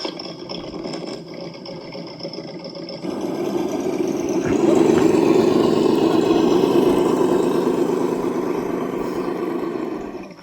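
A buzzy little engine sound from a custom model Jeep Cherokee whirs continuously, revving up and growing louder midway before easing slightly, with no talking.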